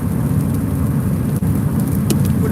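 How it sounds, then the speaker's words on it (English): Steady, loud rain pours down as a dense, constant hiss, with a few faint sharper drips and knocks now and then. "Would have been nice if the rain didn't start."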